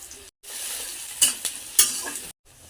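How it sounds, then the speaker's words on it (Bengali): Bay leaf, chopped onion and sugar sizzle in hot oil as a tempering for a Bengali chicken curry, a steady close frying hiss with a few sharper stirring scrapes, broken by brief silent cuts. "ফোড়নে দিব তেজপাতা, পেঁয়াজ কুচি,"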